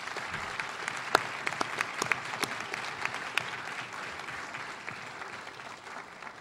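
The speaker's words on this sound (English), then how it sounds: "So one more round of applause for the tremendous gems that we have." An audience at a school district GEM awards ceremony claps in a burst of applause, sharp individual claps standing out at first before the clapping thins and fades away.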